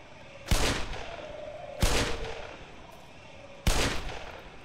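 Three loud, sharp gunshots from a weapon in Black Mesa, evenly spaced about a second and a half apart, each with a short ringing tail.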